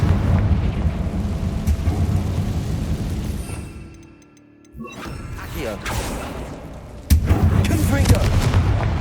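Fire-blast spell explosions in the fantasy video game Hogwarts Legacy, heavy booming bursts and rumbling over a dense game soundscape, with a quiet lull midway and a sharp loud blast near the end.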